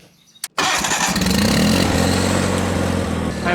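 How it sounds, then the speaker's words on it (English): A John Deere 318 garden tractor engine cranks and catches after a brief quiet moment, then runs loudly and steadily close by with a rough, throbbing drone. "it's a little hard to hear me over the tractor, but I have to have it running"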